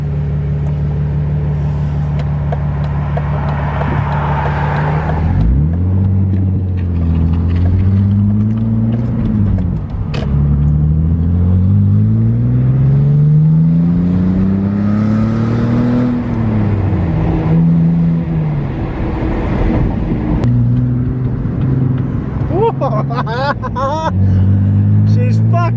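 A BMW E46 325i drift car's engine drones steadily while driving, its pitch rising and falling through gear changes and revs, loud and close throughout, with people talking over it.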